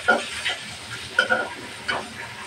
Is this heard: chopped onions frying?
yes